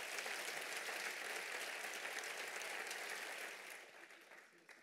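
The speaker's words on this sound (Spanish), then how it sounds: "dale un fuerte aplauso al Señor que está esta mañana con nosotros" A church audience during a morning service gives a hearty round of applause: steady, dense clapping for several seconds that gradually fades toward the end.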